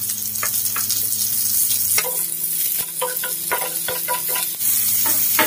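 Garlic and onion sizzle and fry in a pan, a steady close crackle with scraping stir strokes and occasional clinks of a utensil against the pan, no talking.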